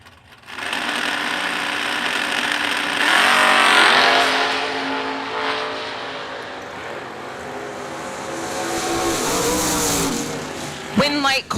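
Drag racing cars, including a Camaro in the left lane, roaring loudly as they rev and launch down the strip at an outdoor event, sustained engine noise rising and falling over about ten seconds.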